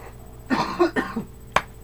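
A few rough throat-clearing coughs close to the mic, in two short bursts, followed by one sharp final cough; no talking.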